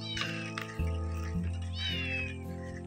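A cat meows several times outdoors, drawn-out plaintive cries close by, with a steady low engine-like hum running underneath.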